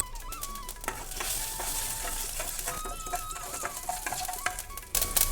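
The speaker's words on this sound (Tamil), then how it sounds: "இப்போ கொத்தவரங்காய் பொரியல் தாளிக்கிறதுக்கு எண்ணெய் சேர்த்துக்கலாங்க." Mustard seeds and urad dal sizzle and crackle in hot oil, tempering for a cluster bean poriyal. A dense, steady frying hiss with scattered sharp pops fills the whole stretch, and stirring clatters now and then.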